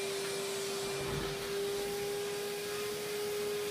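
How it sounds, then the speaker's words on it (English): A Hoover vacuum cleaner runs steadily beside a boy with long hair, its loud, even motor whine droning without pause and with no talk over it. "which is a Hoover"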